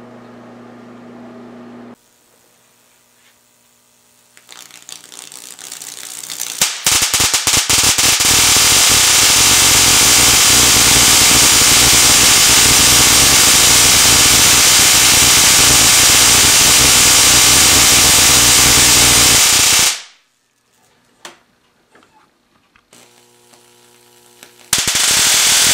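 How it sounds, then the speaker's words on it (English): Output of a high-voltage quadrupler arcs across a 5-inch spark gap, a loud, harsh, continuous crackling buzz lasting about thirteen seconds before cutting off abruptly, with quieter snaps afterward. "send the output of the quadrupler to a spark gap set with a 5-inch gap spacing"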